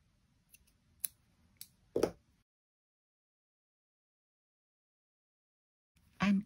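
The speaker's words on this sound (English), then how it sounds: "And then snip those ends off." Small scissors snip the leftover yarn ends off a crocheted rainbow keychain, a few soft close clicks and cuts followed by a quiet pause and a louder final handling sound.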